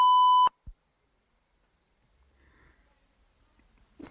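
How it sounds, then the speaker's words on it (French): A single short electronic beep sounds loudly at the start, followed by near silence with faint breathing and soft rustling. "alors envoyez un message après le bip."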